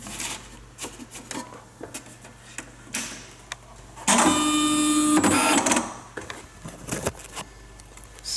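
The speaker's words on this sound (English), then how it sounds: "So the paper's all loaded into the dot matrix, so we're just going to click print" Dot matrix printer printing a tattoo stencil on thermal paper: a loud buzzing, rattling print pass of about two seconds, set between quieter clicks and handling noises, with no talk.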